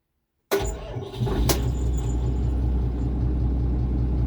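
An Iseki 8020 tractor engine starts abruptly after a brief silence, then settles into a steady, low, fairly quiet idle that continues without interruption.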